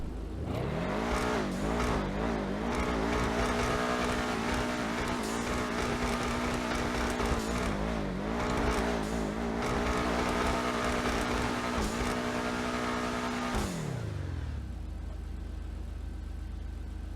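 A Benefactor Schlagen GT sports car engine in GTA Online revs and roars continuously, rising and falling in pitch as it accelerates and shifts, then winds down to a low idle near the end.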